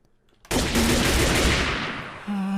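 Gunfire in a Minecraft game: one sudden loud burst that holds for about a second and a half, then fades, followed by a short tonal tail.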